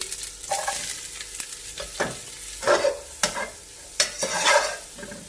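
Shredded cabbage sizzles and crackles in a hot pan with fried ginger-garlic paste for veg fried rice, with irregular scraping stirs and clatters from a utensil, close and busy.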